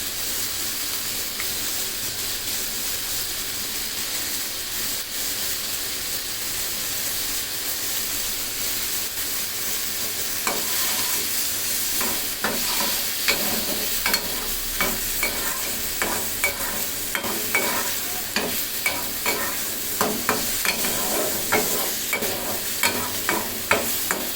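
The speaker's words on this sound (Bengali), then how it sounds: "এখন একটু বাড়িয়ে দিয়ে চিকেনটা কষিয়ে নেব" Chicken with garlic frying in a pan for a chicken cheese bun recipe, a steady sizzle and hiss at first, then repeated clanking spoon strokes against the pan as it is stirred.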